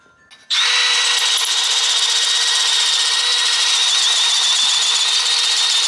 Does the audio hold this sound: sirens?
no